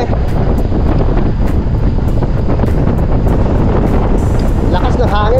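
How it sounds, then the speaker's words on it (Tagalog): Strong wind buffets the microphone outdoors, a continuous loud low roar with no letup, while voices talk faintly underneath. "Lakas ng hangin mga kautol."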